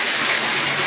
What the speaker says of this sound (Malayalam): വെള്ളം ഫസ്റ്റ് ചെറിയ മഴയാണ്,